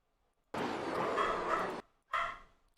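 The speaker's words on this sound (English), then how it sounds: "Sorry for the barking dog." A dog barking nearby indoors, one long drawn-out bark-howl followed by a short second bark after a brief pause, loud and clear with no talk over it.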